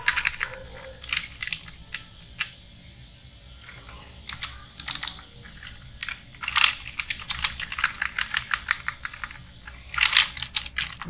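Typing on a computer keyboard, with bursts of rapid key clicks and short pauses running throughout, some keystrokes louder and sharper than others, fairly close and heard alone.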